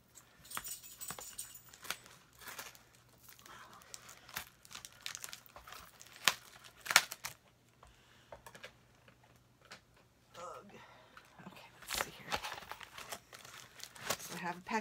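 Lipstick package being cut open and unwrapped by hand, with crinkling plastic, paper rustles and small snips coming in irregular bursts, close and fairly quiet, while a person talks intermittently.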